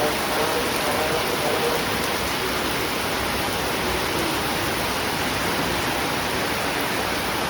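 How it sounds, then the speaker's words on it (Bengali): A heavy downpour of rain hisses evenly and loudly from start to finish, a dense unbroken roar with no pauses. "ওরে বৃষ্টি, কি জোরে বৃষ্টি এসছে"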